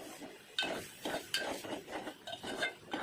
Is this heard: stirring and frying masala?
yes